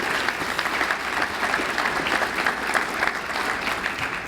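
Applause from an annual meeting audience for a speaker, a steady dense wash of many hands clapping at moderate, even loudness throughout, with no voices over it.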